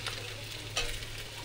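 Salted chicken stir-fried in a pan, giving a soft, steady frying hiss with one brief stirring scrape partway through, faint and without speech.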